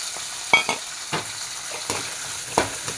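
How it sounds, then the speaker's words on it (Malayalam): Four or five garlic cloves sautéing in a pan, a steady close sizzle broken by repeated sharp scrapes and stirring strokes at irregular intervals, with no voices. "ഒന്ന് നന്നായിട്ടൊന്ന് വഴറ്റിയെടുക്കണം"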